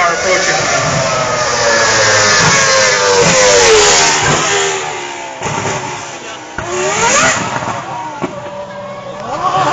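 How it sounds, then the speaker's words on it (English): A Red Bull Formula 1 race car in Jamaica roars loudly past with rising and falling engine pitch, a high-revving howl that swells and fades, with spectators talking and shouting over it. "The sound of the car can actually damage the children's eardrums and your own as well."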